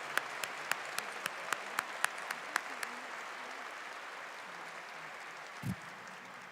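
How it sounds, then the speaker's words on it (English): A handful of separate, evenly spaced claps ring out at an MBA commencement ceremony, then fade into a quiet room murmur with one brief low thump near the end. "Let's give a big round of applause for our online MBA program students."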